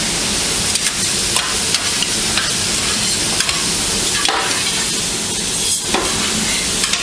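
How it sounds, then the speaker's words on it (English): Chorizo, onions and fennel sizzle steadily in a FlexiChef commercial cooking unit, a loud continuous frying hiss punctuated by irregular scraping clicks of stirring, close up and without talk. "put the chorizo and the onions and the fennel in. That's what I'm going to do now. Fennel, onions, give it a short stir."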